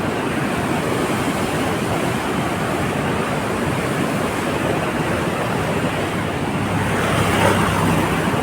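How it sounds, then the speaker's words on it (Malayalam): River water of the Bharathapuzha gushes hard through the opened shutters of the Velliyankallu regulator-cum-bridge in the monsoon, a loud, continuous rushing roar that holds steady throughout, swelling slightly near the end, with no talk. "ഇവിടെ ശക്തമായിട്ട് കുത്തി ഒലിച്ച് വരികയാണ് വെള്ളം"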